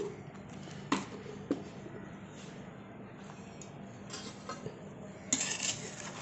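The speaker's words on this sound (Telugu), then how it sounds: "ఇప్పుడు చక్కగా మొత్తము మిక్స్ చేద్దాము" Boondi laddu mixture with fried cashews and raisins is mixed in a metal vessel, giving a few faint, scattered spoon clinks and taps over quiet room tone, with a brighter clatter near the end.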